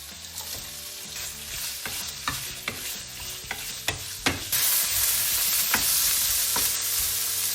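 Pork belly slices sizzle in hot oil in a pan along with scallion, ginger, garlic and dried chili, as a spatula scrapes and tosses them. The close frying hiss swells louder partway through.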